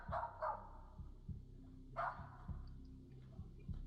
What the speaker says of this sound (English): The family dog, a little Jack Russell Terrier, seems to be particularly freaked out by the mysterious dark figure.